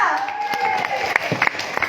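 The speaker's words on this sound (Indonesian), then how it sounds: "Tepuk tangan buat Anda semua." A seminar audience at a family gathering gives a short burst of scattered clapping, heard beneath a louder voice that keeps speaking over it, with a sliding tone ringing at the start.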